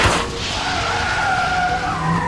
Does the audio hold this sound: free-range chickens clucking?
no